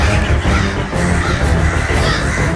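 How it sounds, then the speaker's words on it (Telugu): A flock of crows caws loudly and continuously near a hillside cave, with overlapping harsh calls filling the whole stretch. "ఈ కాకులని ఆ కొండలోని గుహలోకి ప్రవేశిస్తున్నట్టున్నాయి"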